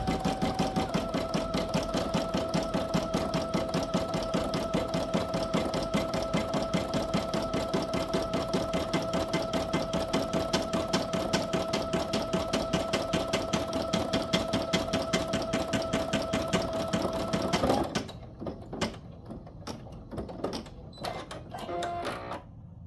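Embroidery machine stitching an in-the-hoop coaster, a rapid mechanical rattling hum with a steady stitch rhythm and a tonal whine, running loud and even for about eighteen seconds before it stops and leaves quieter scattered clicks.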